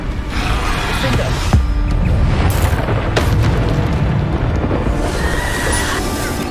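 Spell blasts boom out during combat in Hogwarts Legacy: several loud, sharp explosions strike in quick succession over a dense, rumbling background of battle noise.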